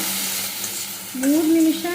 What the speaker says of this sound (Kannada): ಜಸ್ಟ್ ಒಂದು 5 ನಿಮಿಷ ಫ್ರೈ ಮಾಡಿಕೊಂಡು, ಅದು ಫ್ರೈ ಆಗ್ತಿದ್ದಂಗೆ